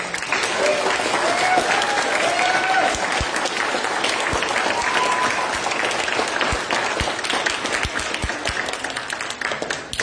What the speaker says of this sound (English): Can we get a big round of applause for our new Tenderfoot Scouts?